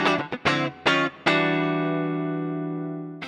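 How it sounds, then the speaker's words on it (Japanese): Electric guitar strums a few choppy chords through a Limetone HOME switcher, then switches to a reverb effect and one chord rings out with a long, lush reverb tail slowly fading away. "で、リバーブに切り替え"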